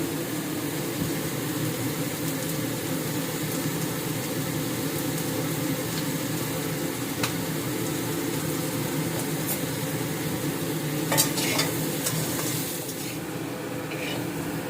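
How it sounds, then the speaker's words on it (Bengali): Black cumin seeds, green chilies and turmeric fry gently in a pan, giving a steady, even sizzle that runs unbroken throughout with no voices. "জিরে দিয়ে সাথে কাঁচা লঙ্কাও ছেড়ে দিয়েছি হলুদ দিয়ে এটা হালকা ভাজা হবে"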